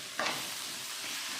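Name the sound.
stirring brinjal curry with chilli powder in a pan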